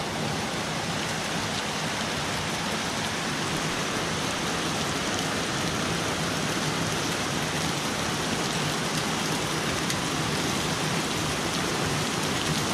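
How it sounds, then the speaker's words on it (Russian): Hail and rain falling during a spring storm at Lazarevskoye near Sochi, a dense, steady, even hiss of drops on surfaces for the whole stretch, with no voices. "Опять град отсыпался."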